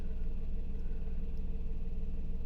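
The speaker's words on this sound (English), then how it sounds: "this is just a short video regarding the cabin noise from the engine" A low, steady engine hum heard from inside the cabin of a Perodua Axia E car, quiet and even, with no voices over it.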